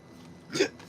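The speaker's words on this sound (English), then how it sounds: "Confirmation is the burp." A single short burp, close and fairly loud, rises out of a quiet room and fades within a fraction of a second.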